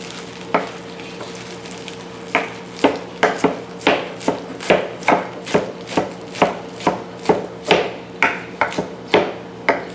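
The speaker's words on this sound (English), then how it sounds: "we're going to take this fresh spinach leaves and we're going to chop them" Fresh spinach leaves roughly chopped with a knife on a board, a steady run of crisp, close thuds at an even rhythm, with no talk.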